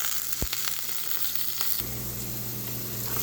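Crushed garlic sizzles in hot oil in a pan, a steady close frying crackle with a few sharp clinks of a utensil stirring, no talking.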